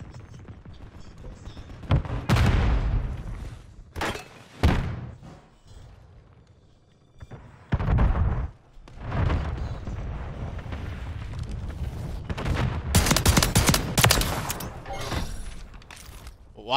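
Gunfire and explosions from the video game Call of Duty: Modern Warfare III burst out in loud, close volleys and booms, separated by quieter gaps.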